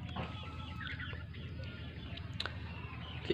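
Muscovy ducks call in a barnyard, soft repeated clucking and hissing calls under a steady low background noise, with a few sharper cries near the end.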